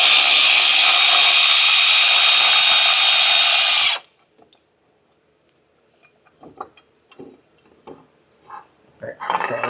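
A power tool runs loud and steady for about four seconds removing the last bolt on a 2023 Genesis GV70 with locked-up front wheels, then cuts off, followed by quiet clinks and faint voices.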